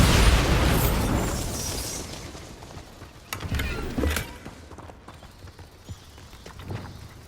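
A Bombarda spell explosion in the video game Hogwarts Legacy, a loud burst that opens with a booming blast and fades into rumbling debris, followed by a few sharper pops and thuds.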